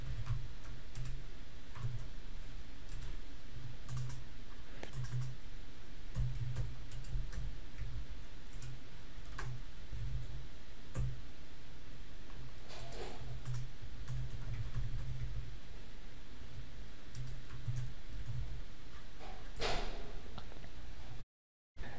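Code being typed on a computer keyboard, with steady rapid key clicks close up over a low hum and a few louder taps, and no one speaking.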